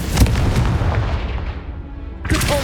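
Confringo, a fiery explosive spell cast in the video game Hogwarts Legacy, bursts with a loud booming blast that rumbles and fades for about two seconds before a second sharp impact.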